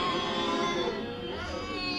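A processed baby scream made into an eerie horror game effect for Alan Wake, a brief two-second tonal, wavering wail with layered harmonics over a noisy low rumble.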